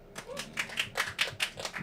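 A few people clap briefly at close range, the quick uneven claps mixing with a voice speaking over them.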